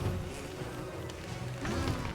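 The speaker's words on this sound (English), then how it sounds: "Bad side is I'm still fighting killer bees." Killer bees buzz in Don't Starve Together, a continuous low droning hum that holds steady at moderate level with no talking.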